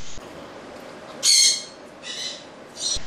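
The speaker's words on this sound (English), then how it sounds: "And Ben, a Congo African gray who has been lame since birth." Three short, bright calls from a Congo African grey parrot ring out one after another against a quiet hiss, the first loudest and the next two shorter and softer.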